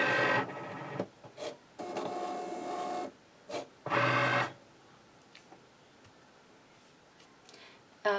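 A Cricut Maker 4 cutting machine running quietly, with bursts of whirring motor and carriage movement separated by short pauses, then a softer low hum with small ticks toward the end.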